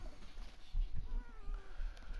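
A small kitten meows softly a few times, faint and close, over a low background hum.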